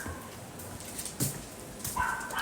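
A dog makes short, faint whimpering yips and whines at scattered moments, close by over a steady hiss of room noise.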